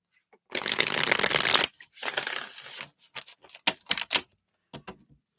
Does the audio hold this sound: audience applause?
no